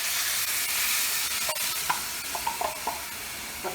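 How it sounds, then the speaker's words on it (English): Sauce with Henderson's relish bubbles and sizzles hard in a pan, a steady close hiss with little pops and a few light clinks of stirring toward the end. "That's really bubbling."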